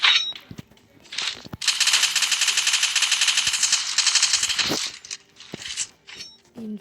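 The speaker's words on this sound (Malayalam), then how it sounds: "ഇൻഫിനിറ്റി ആയതുകൊണ്ട് എപ്പോൾ വേണമെങ്കിലും വെടിവെച്ച് കളയാം" In the video game Free Fire, an infinite-ammo gun fires a loud, rapid automatic burst lasting about three seconds. Scattered single shots and clicks come before and after it.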